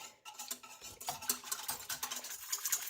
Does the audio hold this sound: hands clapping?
no